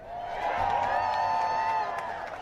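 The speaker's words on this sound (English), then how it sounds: "It is so damn good to see this crowd." A crowd at the Hands Off rally in Washington, DC cheers, with a sustained swell of massed voices and whoops that holds loud and steady before easing off.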